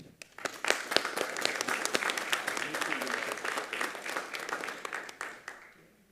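A round of applause at a city council meeting: a crowd of people clapping in a steady, dense patter, moderately loud and sustained, then tapering off near the end.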